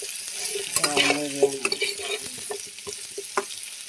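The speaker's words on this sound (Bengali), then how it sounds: "সবগুলো মাছটা লাল লাল করে ভেজে নিই" Fish being stirred and fried in hot oil in a pan, giving a close, steady sizzle broken by irregular clinks and scrapes of the spatula and occasional sharper crackles.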